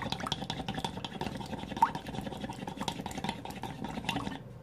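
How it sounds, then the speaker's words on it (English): Three eggs are whisked in a bowl with rapid, steady clicking strokes of a utensil, fairly quiet and continuous for a few seconds. "I'm just gonna mix those up real quick"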